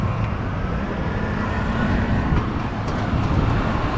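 Street traffic with tuk-tuks and three-wheelers in Basra, Iraq: a dense, steady wash of engine and road noise with faint higher clicks and passing vehicle sounds, loud and continuous, no voices.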